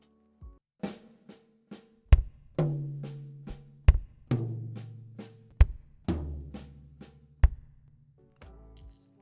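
Drum rudiment pattern moved around the drum kit, sharp hand strokes across several toms with booming kick and floor-tom hits recurring in a steady groove for about nine seconds, no talking.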